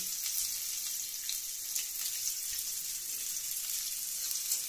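Sliced onions hit hot oil in a pan for a Bengali mango dal, giving a soft, steady hiss of frying that stays fairly quiet and even from start to finish with no voices over it.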